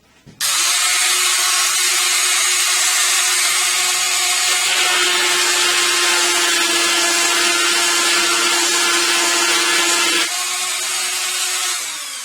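A Dremel rotary tool grinds the teeth of a chainsaw chain, a loud, close, high-pitched whine held steady for about ten seconds before spinning down.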